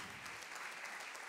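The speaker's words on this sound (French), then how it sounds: "Bravo, applaudissements, Trevor." Audience applause at an awards ceremony for a songwriting prize, a short burst of faint, steady clapping from a room of people, heard at a distance.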